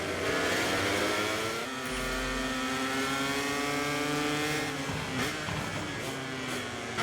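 Several racing motorcycles rev and accelerate hard in MotoGP 24, a steady, loud overlapping engine whine with rising and shifting pitch sweeps throughout, no voices.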